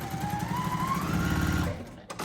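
Sewing machine stitching straight along a marked line, a steady fast mechanical chatter with a rising motor whine, stopping abruptly near the end.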